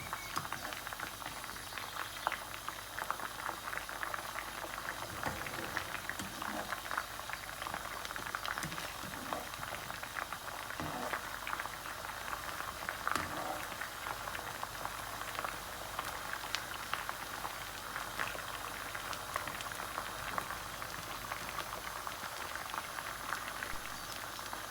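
Koftas frying steadily in a pan of oil, a dense, even crackle and bubble that holds close and constant with no voices over it.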